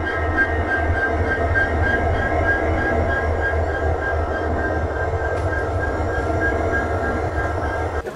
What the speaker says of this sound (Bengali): এই হচ্ছে আমাদের পুরো ট্রেন।